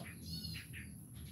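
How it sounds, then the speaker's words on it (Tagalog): A bird calls from atop a santan shrub outdoors, giving a few short high chirps close by over a steady low background hum. "Ay lokong ibon yun Tignan nyo yung ibon na yun nandyan na sa ibabaw ng santan."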